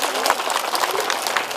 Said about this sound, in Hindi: एक बार जोरदार तालियां हो जाए आप सबके इंतजार के लिए।